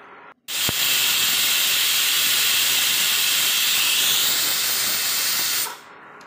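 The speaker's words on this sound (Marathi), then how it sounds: "कुकरच्या 3 शिट्ट्या झाल्या आहेत" A pressure cooker releasing steam in one loud, continuous hiss that begins abruptly, holds steady for about five seconds and then cuts off, with no talking.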